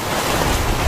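High ocean waves surge onto El Majagual beach in El Salvador during the November 2016 tsunami, a brief, loud, continuous roar of surf mixed with wind buffeting the microphone.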